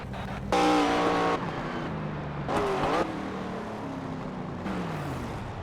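A pace car engine in an iRacing replay at Rockingham drones steadily with a few louder revving surges as it passes, heard on its own without talk.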